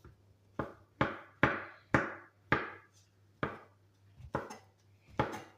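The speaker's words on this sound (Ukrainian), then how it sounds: "Буду кришити їх дрібненько." Fried champignon mushrooms are chopped finely with a knife on a board for a salad: about ten crisp, close knocks in an uneven rhythm, with quiet pauses between strokes and no talking.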